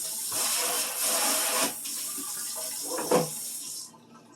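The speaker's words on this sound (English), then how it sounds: "Gotta get the sink filled up." Tap water runs steadily into a kitchen sink, a continuous broadband rush with small splashing shifts, ending abruptly as the faucet shuts off near the end.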